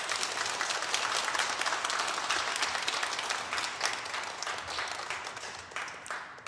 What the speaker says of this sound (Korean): 우리 박수로 응원했으면